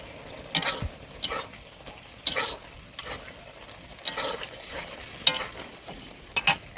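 Ground garam masala paste cooks in a pan over a soft, steady sizzle, broken by a few sharp scrapes and clicks from a spatula. Close and fairly quiet, with no one speaking.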